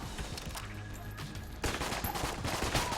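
Gunfire from Enter the Gungeon: a light, scattered patter of shots that turns into a dense, rapid barrage of overlapping blasts partway through.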